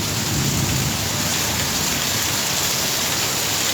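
Heavy rain pours down in Sylhet, Bangladesh, in a dense, steady roar throughout, loud and close, with a deep rumble of thunder blended underneath.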